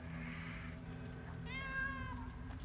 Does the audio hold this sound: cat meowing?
yes